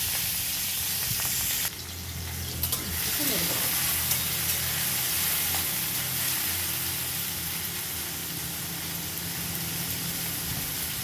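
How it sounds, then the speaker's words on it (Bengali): Prawns rubbed with salt and turmeric frying in hot oil in a pan, a loud continuous sizzle that dips briefly, then settles into a steady hiss. "তেল দিয়ে দেবো। চিংড়ি মাছ ভাজবো"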